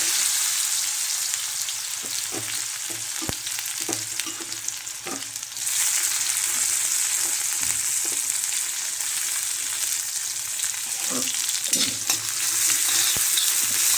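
Onion fries in an iron tawa with oil not yet fully hot, a continuous close sizzle with frequent scraping and tapping stirs of a spatula for the whole stretch.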